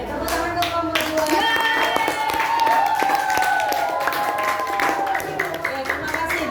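Fifth-grade elementary classroom clapping for a student group after their coding presentation, a burst of quick uneven clapping from children, close and fairly loud, with some chatter mixed in.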